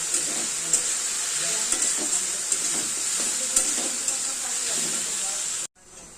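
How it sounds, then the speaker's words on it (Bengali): Potatoes stir-fried with cumin and chilli powder spices in a pan, a loud steady hissing sizzle with rhythmic spatula scrapes, cut off abruptly just before the end. "এবার এটাকে ভালো করে কষাবো মশলাগুলো দিয়ে"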